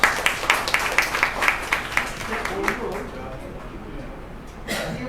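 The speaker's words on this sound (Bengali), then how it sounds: "আমি সৈয়দা ডালিয়ার জন্য একটা হাততালি করতে চাই।" An audience at a book launch applauds author Syeda Dalia, a burst of rhythmic clapping that fades after about three seconds, followed by murmuring voices and a brief late rise.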